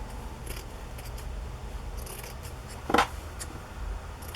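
Scissors trimming excess backing from a padded fabric cover: a single short, crisp snip stands out in a quiet room, with faint soft rustles around it.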